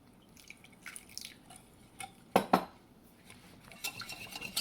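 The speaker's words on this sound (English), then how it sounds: "Just add a little water. Mix it." Thai pancake batter being mixed with water in a bowl: soft scraping and stirring, light clinks of utensil against the bowl, and a couple of sharper knocks near the middle, fairly quiet and close with no talking.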